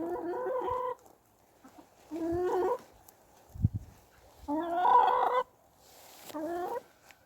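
Chickens clucking in short bursts with pauses between, close by, and a rooster's call among them, no talking.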